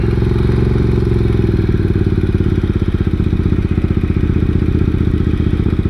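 A 1999 Suzuki Intruder 800 motorcycle idles up close, its engine throbbing in a loud, steady, rapid low pulse that eases slightly as it drops from high idle, with no talk.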